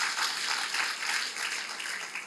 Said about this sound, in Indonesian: Tepuk tangan buat Tuhan Yesus.